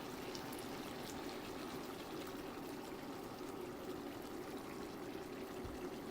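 A small amount of water poured into a Moroccan tagine while cooking, giving a faint, steady trickling hiss that runs unbroken from start to finish with no voices.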